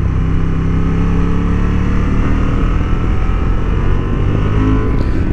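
A 2023 Honda XL750 Transalp motorcycle engine drones loudly and continuously while ridden on a racing track. It holds a steady, strong tone close to the rider under rushing wind, with no talking.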